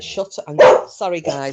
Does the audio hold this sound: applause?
no